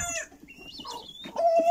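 Chickens cluck inside a henhouse, close and fairly loud, with a mix of short clucks and drawn-out squawking calls overlapping over a couple of seconds and no talking.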